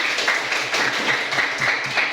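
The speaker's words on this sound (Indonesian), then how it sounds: "tepuk tangan untuk kelompok 1 dulu" A small group in a teacher-training class claps in a brief, fairly rhythmic burst of applause for a presenting group, close by and moderately loud.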